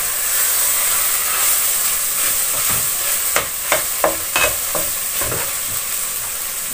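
Ground beef for Bolognese sauce sizzles and fries loudly in a hot pan, a steady hissing bed broken by a few sharp crackles and stirring scrapes near the middle, with no talking.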